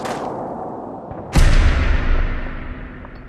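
A single loud, close gunshot at a Fog Ghoul in Fallout 4, sharp crack followed by a booming decay and echo, with a second softer thump soon after.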